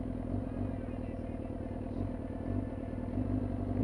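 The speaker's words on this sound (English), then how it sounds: "I can feel the engine struggling" A Yamaha YZF R6 motorcycle engine with a stuttering rev fault runs close by, a steady loud rumble with uneven surges and roughness, no voices over it.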